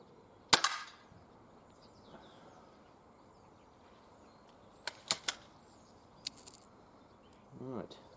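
Several Benjamin Trail NP MK2 air pistol shots fired at a 10 metre target: one sharp crack early, a close pair about four seconds later and another single crack, each brief and alone against quiet outdoor background.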